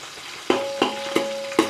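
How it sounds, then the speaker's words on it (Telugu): Green chillies fry in oil for a poha mixture, a steady sizzle punctuated by four evenly spaced stirring knocks against the pan, close and clear with no talking. "పచ్చిమిర్చి వేసుకుందాం మంచిగా కలిపేసుకోండి ఆ పచ్చిమిర్చి మంచిగా వేగాలి ఆయిల్లో"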